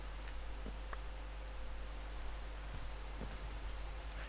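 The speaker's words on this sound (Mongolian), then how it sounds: "Дээрээс бороо туслаад байгаа юм ч гэсэн санагдаад байна." Rain falls overhead in a steady, faint hiss with scattered soft drops tapping on a surface, continuous and even throughout.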